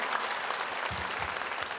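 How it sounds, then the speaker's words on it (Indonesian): A reunion audience applauding in a hall, a brief continuous patter of many hands at moderate level, a little distant, with faint murmuring underneath. "boleh kita berikan tepuk tangan lebih meriah lagi dong?"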